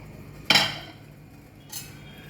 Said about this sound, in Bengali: ঢাকনাটা খুলে এবার দেখি।